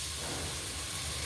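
Onions tipped into a hot pan for a Chinese vegetable and prawn dish sizzle with a steady, even hiss throughout, close and fairly soft, with no talking.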